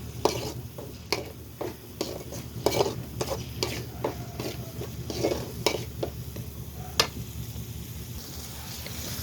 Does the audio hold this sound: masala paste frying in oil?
yes